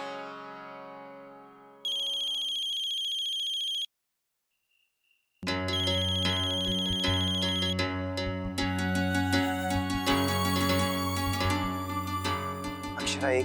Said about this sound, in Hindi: अक्षरा, एक बार तो मेरा फोन उठा लीजिए प्लीज।